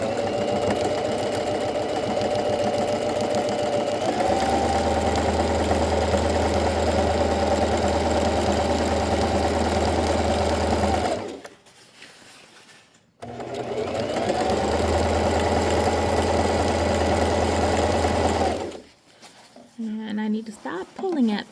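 A sewing machine stitches a French seam in two long runs, its steady mechanical whir close and even, with a brief pause between runs and quiet handling noises at the end.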